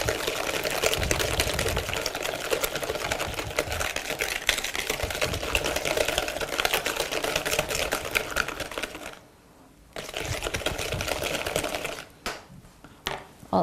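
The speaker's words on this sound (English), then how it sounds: "I'll add some sugar. And just whisk it." Sugar is whisked into a mixture for Iranian walnut-stuffed kilocheh cookies, producing a steady, fast rattling scrape of the whisk against the bowl. It pauses briefly, resumes, and then trails off into a few scattered strokes.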